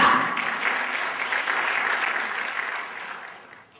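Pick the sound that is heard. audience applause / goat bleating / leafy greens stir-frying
audience applause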